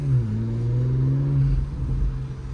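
Porsche Macan GTS with its exhaust open in Sport Plus pulls away under acceleration, a steady, loud engine drone rising slightly in pitch before easing off, close and with no talking.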